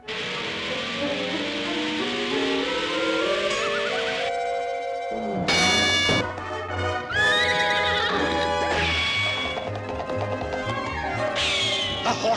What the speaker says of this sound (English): The horses are coming down a stretch.